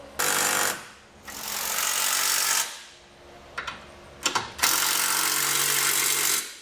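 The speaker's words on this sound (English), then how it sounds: "Now that we've got all of our hardware started, we can go back and tighten down all of our bolts." Power tool driving and tightening bolts on a Roadmaster Direct-Connect base plate for a 2019 Jeep, loud close whirring bursts of about one to two seconds separated by brief pauses and a few short taps.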